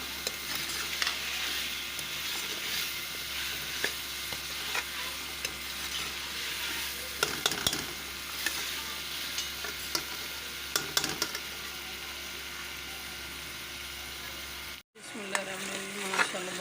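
Potatoes fry in hot oil with spices for a chicken kaleji aloo dish, a constant sizzle broken by repeated scraping and clinking of a spoon stirring the pan, then an abrupt cut near the end.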